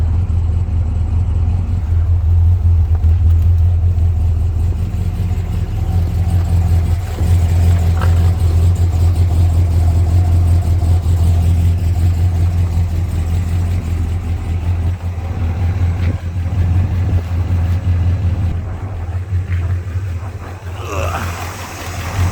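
A 1970 Chevelle SS convertible with an LS5 454 V8 rated at 365 horsepower, driving with a steady deep engine drone and road rumble that hold loud and even throughout.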